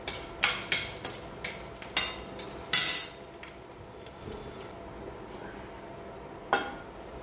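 Masala spices and garlic dry-roasting in a pan for amla pickle, with several sharp scraping and clinking stirs in the first three seconds, then a quieter stretch and one last scrape near the end, close up and without talk.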